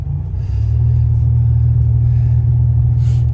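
A turbo Buick Regal on the move, its engine a loud, steady, deep rumble with a slight rise in revs as it cruises, heard from inside the car without speech.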